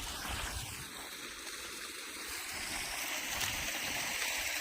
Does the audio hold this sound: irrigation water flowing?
yes